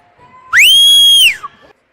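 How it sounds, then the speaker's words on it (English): A piercing whistle blown at a youth girls' 14U hockey game in support of the Warhawks: one loud, sustained, high blast of under a second with a rising start and falling end. "Pardon me for a moment while I have to whistle in support of the Warhawks."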